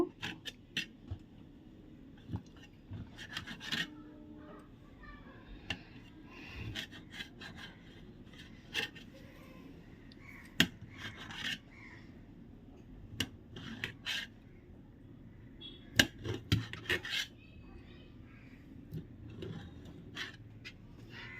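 Knife cutting the last pieces of homemade paneer, a series of soft scraping and tapping cuts at an uneven pace against quiet background, close but faint, with no talk.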